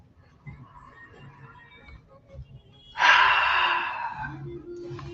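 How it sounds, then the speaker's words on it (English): Deep breath during a pranayama breathing exercise: a quiet stretch, then one strong, loud breathy rush lasting about a second and a half that gradually fades. "preliminary deep breathing"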